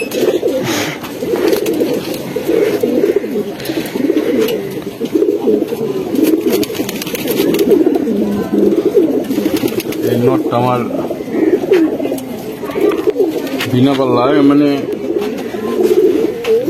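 Tournament racing pigeons in a loft keep cooing at close range, in low throaty bursts that repeat through the scene, while someone talks over them.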